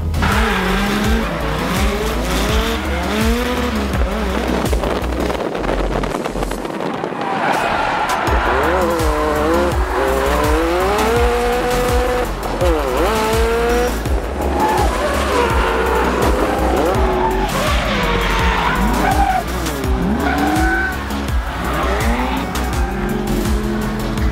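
Tires squeal continuously as a car drifts, the engine roaring and rising in pitch over a long, loud stretch with no break.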